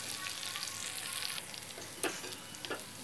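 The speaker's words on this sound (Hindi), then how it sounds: "अब यहाँ पर प्याज को हम हल्का सा गोल्डन ब्राउन होने देते हैं और मिर्चें भी इसी के अंदर" Onions and chillies frying in a pan, a steady, close crackling sizzle broken by a couple of brief stirring scrapes toward the end.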